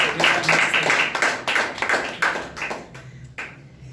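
An audience claps for a performer named Kunal, a fairly dense run of hand claps that pulses steadily and then thins out toward the end, with no voices over it.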